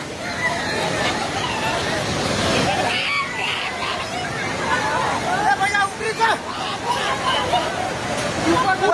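A constant rushing roar of fast, swollen flooded river water in Nepal fills the scene, with excited voices and crowd chatter mixed in over it.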